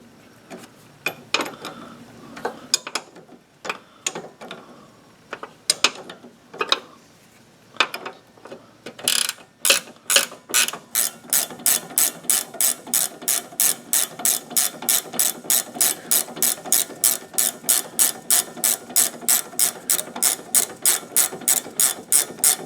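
Hand ratchet tightening the front control arm bushing bolt on a 2007 Pontiac G6, starting with scattered clicks and handling noises, then settling into a steady, rapid run of close, crisp pawl clicks.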